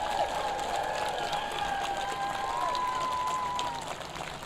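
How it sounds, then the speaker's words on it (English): Steady applause from a middle school graduation crowd for a row of graduates, a dense wash of clapping with tonal voices or cheers threading through, fading slightly at the end. "how about a big round of applause for row one"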